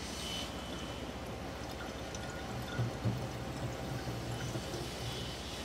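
Filtered drinking water flows from a membrane system into a tank aboard the MSC Seaside cruise ship, a steady close rushing pour with a constant machinery hum underneath and no voices.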